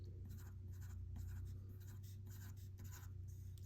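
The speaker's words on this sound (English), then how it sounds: "we can draw some petals, maybe one petal left on" Pen or marker drawing flower petals on paper, a close, steady run of scratchy strokes in short repeated bursts over a low constant hum.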